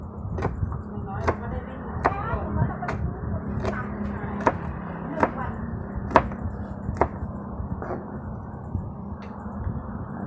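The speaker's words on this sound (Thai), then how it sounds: "ครับแล้วก็หั่นหมูกรอบนะครับ ฟังเสียงหมูกรอบนะครับ" Sharp knife chops crunching through crispy pork belly on a board, about a dozen crisp cracks at a steady pace over a low background hum.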